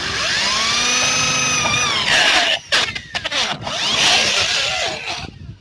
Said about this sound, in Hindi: वैसे मैं ड्रिल मशीन से करने वाला हूँ